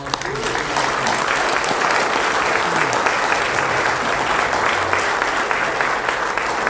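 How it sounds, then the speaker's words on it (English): Steady, dense applause from a large audience filling the room at a conference event, sustained at an even loudness from start to finish, with faint background voices. "please give a warm thank you and round of applause"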